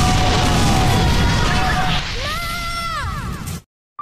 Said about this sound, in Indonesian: tempat itu hancur diluluh lantahkan oleh ledakan